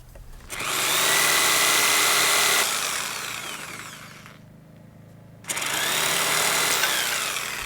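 A power tool cuts a wooden batten for a pipistrelle bat box: a loud, close, sustained grinding run, a quieter stretch tailing off, a brief pause, then a second loud cutting burst.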